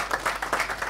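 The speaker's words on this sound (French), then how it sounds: "Je pense que nous pouvons l'applaudir." An audience at a financial regulation workshop gives a brief round of applause, a short burst of clapping from a moderately distant crowd.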